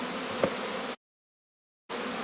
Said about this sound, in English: There's now a thick layer of bees there.